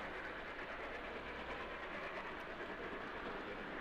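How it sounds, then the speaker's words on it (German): A Roco H0 scale BR 44 model steam locomotive hauls a very long train of 78 wagons, giving a steady, continuous rolling rumble and hiss of small wheels on track, even and moderately quiet throughout with no talk. "Ohne Schleudern hat die Roco-Lok den Zug bewegt."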